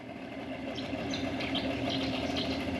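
Old smoking two-stroke Johnson outboard motor pushing a fishing boat off Cape York: a steady close buzzing drone with a faint knocking pulse, running continuously with no talk.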